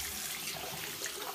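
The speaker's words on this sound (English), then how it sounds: "I'm gonna rinse a little. The goal is for the water to run clear." Tap water running over a makeup brush being rinsed clean in a sink, a steady close splashing hiss with no talking.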